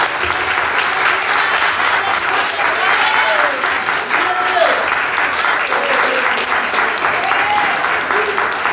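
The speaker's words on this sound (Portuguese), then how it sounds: "Vamos aplaudir o Senhor" A church congregation at a revivalist service applauds vigorously in praise, a loud, continuous roar of clapping with scattered voices calling out beneath it.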